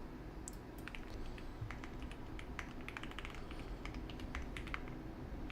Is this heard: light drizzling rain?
no